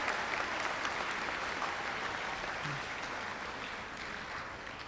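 An audience in a school setting applauds a school board member, producing a continuous, even wash of clapping from many hands that fades slightly over about five seconds, with no speech over it.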